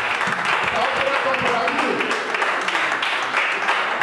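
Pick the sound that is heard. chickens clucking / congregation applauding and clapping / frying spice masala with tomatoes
congregation applauding and clapping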